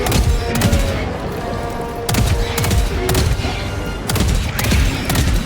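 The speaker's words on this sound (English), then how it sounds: "An autocannon sentry always fires in a 3-round salvo." Autocannon sentry in the Helldivers 2 video game firing three-round salvos, with loud, heavy booming bursts repeating about every two seconds and no talk.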